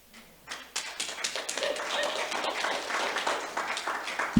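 An audience applauds in a meeting hall, a burst of many hands clapping that starts abruptly and holds steady at a moderate level, with a brief voice underneath.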